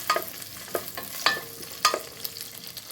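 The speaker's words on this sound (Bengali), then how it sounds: "আমি সবগুলো পেঁয়াজ ভেজে দিলাম।" Onions fry in a generous amount of hot oil, heard as a soft sizzle broken by rhythmic stirring scrapes and clinks about every half second, close and without speech.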